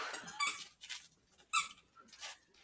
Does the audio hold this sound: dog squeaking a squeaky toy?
yes